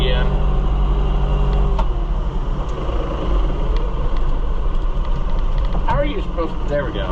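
New Holland TN75DA tractor diesel engine rumbling steadily with a low idle drone while gears are shifted, a brief clunk and change in engine note partway through, with someone talking over it.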